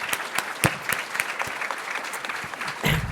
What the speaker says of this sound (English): Let's join in another round of applause